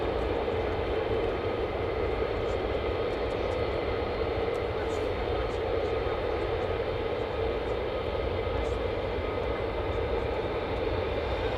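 Fighter jets of the 48th Fighter Wing make a steady, broad roar that holds even loudness throughout, a constant distant drone with no clear passes or peaks.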